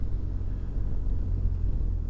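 A steady, loud low-pitched engine rumble from an old 125cc two-stroke motorcycle exhaust close by, droning continuously without a break or any voices.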